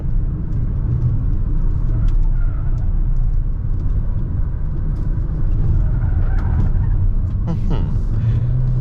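An MG ZS HEV hybrid car with a 177 hp powertrain is accelerating, braking and cornering, heard from inside as a steady low engine and road rumble that holds at an even, fairly loud level for the whole stretch.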